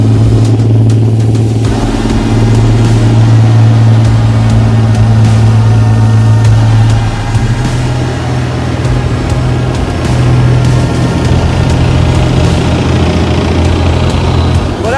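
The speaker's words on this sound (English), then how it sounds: "this is going to be the first time seeing these tanks drive" A military tank with a powerful diesel engine drives past, giving a loud continuous rumbling drone that shifts pitch as it revs, very close throughout.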